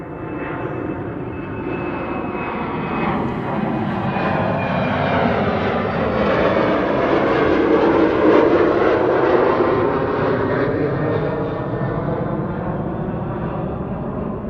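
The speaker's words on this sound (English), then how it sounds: "Delta Airlines to Boston, Massachusetts. An A330neo." A Delta Air Lines Airbus A330neo bound for Boston roars past on departure at Amsterdam Schiphol on a sunny winter day, its jet engines swelling to a loud peak midway before slowly fading, with no voices.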